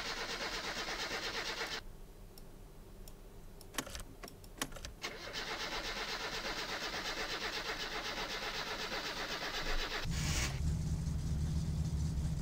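Car engine idling in the My Summer Car video game, a steady mid-pitched engine hum with a cranking start partway through, some clicks and rubbing, then a deeper, louder idle settling in toward the end, with no voices.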